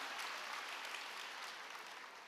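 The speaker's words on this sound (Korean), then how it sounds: "스스로 오늘 대가 지불하고 이 자리에 온 자신을 위해서 박수하시면 좋겠어요" Faint, steady applause from an audience at an Atomy business vision lecture, a soft wash of many hands clapping that slowly fades over about two seconds.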